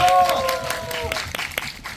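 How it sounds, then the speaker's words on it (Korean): Applause from fans at a theatre troupe's fan meeting, scattered claps and crowd noise with a voice over them early on, then thinning to a few separate claps. "박수 한번 주세요"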